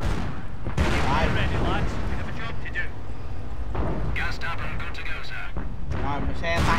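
Booming artillery and gunfire from the World War II strategy game Company of Heroes, with several heavy blasts scattered through the stretch, mostly beneath someone talking continuously in Vietnamese.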